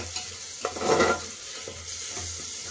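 Green chillies stirred and fried with onion and tomato in a pan for masoor pulao, giving a soft steady sizzle with scraping stirs, loudest in a short burst near the middle.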